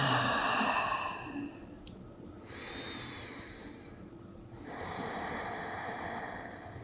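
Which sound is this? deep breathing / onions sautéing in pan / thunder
deep breathing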